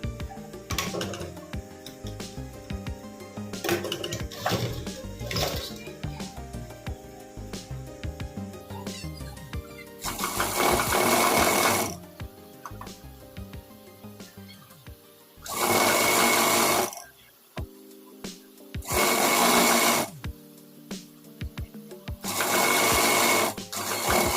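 A sewing machine stitches a 6.5-inch salwar belt in four loud bursts of rapid whirring, each lasting a second or two, separated by quieter handling sounds.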